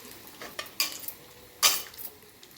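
Batter-coated potato bajji dropped into hot oil for deep-frying, with a quiet sizzle behind a few distinct splashes and utensil clinks spaced about a second apart.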